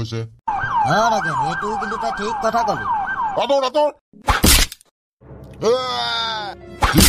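A cartoon ambulance siren wails in rising-and-falling sweeps for about three seconds, loud and close, then breaks off into short crashing bursts and a brief second siren-like tone near the end.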